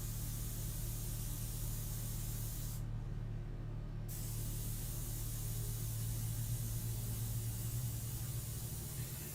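An airbrush sprays India ink for a portrait painting, a steady close hiss of air that cuts out briefly for about a second before resuming and continuing evenly.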